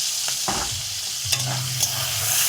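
Turmeric-coated gugli snails sizzling in hot oil alongside onion, tomato, ginger, garlic and green chilli, a dense close hiss with a few utensil knocks and a low rumble, no voices.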